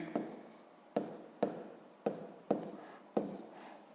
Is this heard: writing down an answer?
yes